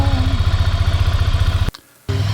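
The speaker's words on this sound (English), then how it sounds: "starting up the Ducati Scrambler Full Throttle" A 2025 Ducati Scrambler Full Throttle with a slip-on exhaust fires up and settles into a loud, close, lumpy idle pulse, then cuts out briefly before the engine note returns.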